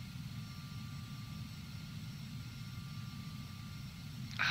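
Carenado Phenom 300 business jet taxiing in FSX, a low steady engine hum and faint whine, fairly quiet and even throughout, with a brief sharp noise at the very end and no talk.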